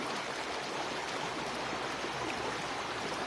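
Steady rushing of a flowing river, a continuous broadband wash of water close by with no voices.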